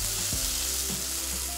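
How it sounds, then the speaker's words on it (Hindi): Onion, ginger and garlic fry in oil in a pan, a steady broadband sizzle with a brief clink of a utensil and soft stirring scrapes, close and continuous, with no talking. "प्याज, ऑयल, अदरक, लहसुन जैसी पकना शुरू हो जाए तो चूल्हे की लो को स्लो कर देंगे"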